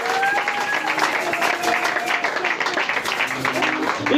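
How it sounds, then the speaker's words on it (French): A church congregation claps and cheers loudly in continuous, dense applause, with voices mixed into the crowd noise throughout. "Est-ce que tu peux acclamer très fort pour le roi de gloire?"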